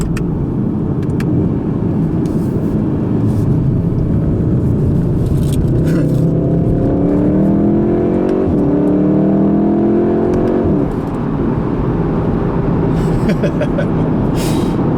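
A 2016 Volkswagen Golf R with DSG gearbox in sport mode accelerates hard, its engine note climbing in rising harmonic sweeps over steady road and wind rumble heard from inside the cabin, no talking.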